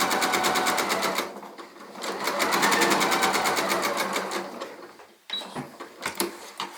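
Sewing machine stitching a fabric Christmas tree ornament, a steady rapid needle clatter in two long runs broken by a brief pause, then short stop-start bursts near the end; close and fairly loud, no talking.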